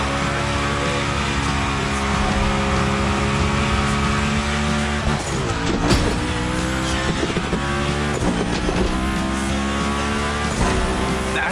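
Cars drift and slide with screeching tires and roaring engines in the racing game The Crew Motorfest, a loud continuous skid with sharper squeals recurring every couple of seconds.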